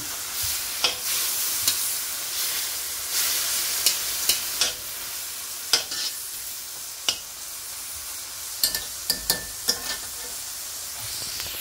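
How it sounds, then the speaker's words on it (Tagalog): Bihon rice noodles with soy sauce are stirred in a pan, a steady sizzle broken by sharp, irregular scrapes and clacks of the utensil against the pan, close and clear with no talking. "Then, haluin natin mabuti."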